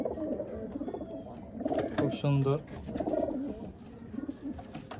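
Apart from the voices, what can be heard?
pair of pigeons cooing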